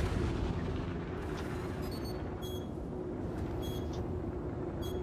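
Weapons fire and explosions from thunderbolt guns in a spaceship combat video game, a dense continuous barrage of heavy booms and rumbling blasts that stays loud throughout, with no talking.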